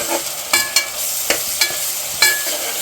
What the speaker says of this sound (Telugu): ఉల్లిపాయలు ఇంకా అల్లం వెల్లిపాయ పేస్ట్ వేస్తుంది పచ్చి వాసన పోయేంత వరకు వేసుకోవాలి